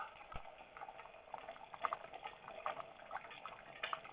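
A pot of liquid bubbles steadily while Mexican lasagna cooks, a soft busy burble of small pops close by, with no talking.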